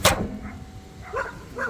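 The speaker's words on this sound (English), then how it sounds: "there's a goddamn dog somewhere that's got to start barking" A dog barks once or twice close by in a quiet outdoor setting near a 2004 Toyota Prius, with one loud, sharp bark followed by a few softer yips.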